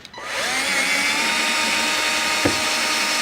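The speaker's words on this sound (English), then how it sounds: "I typically use a cordless drill." A cordless drill drives an Allen head screw into the base of an Osaki OS-4000 massage chair. After a brief start-up it settles into a loud, steady motor whine, with one short knock near the end.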